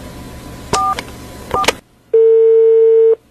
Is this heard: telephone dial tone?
yes